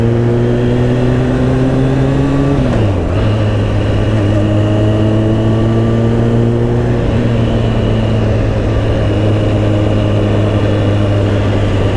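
Motorcycle engine droning loud and close while riding a rough road, a steady mid-pitched hum with a brief dip in revs partway through before settling back to an even tone.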